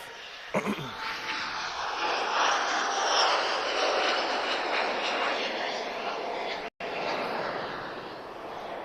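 An aircraft starts its takeoff roll at Lisbon Airport, its engine roar rising to a steady, moderately distant rumble after a brief knock at the start, with a momentary dropout late on and no clear voices over it.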